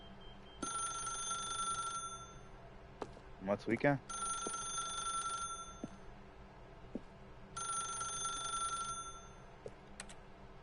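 In The Stanley Parable Ultra Deluxe, an office telephone rings in repeated electronic bursts with pauses between them. Someone talks briefly between the rings.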